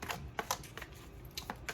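A deck of chakra cards is shuffled by hand, giving a few quick crisp riffles and taps spaced irregularly, close and fairly faint, with no talk over them.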